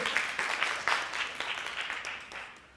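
A conference audience at a women's empowerment event applauds, steady clapping that swells briefly then gradually tapers off.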